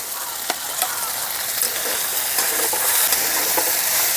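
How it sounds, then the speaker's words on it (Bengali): Chopped tomatoes added to frying ginger and green chilli paste sizzle steadily in the pan, a close, continuous hiss with soft stirring clicks and scrapes throughout. "এখন আমি দিয়ে দিচ্ছি কেটে রাখা টমেটো"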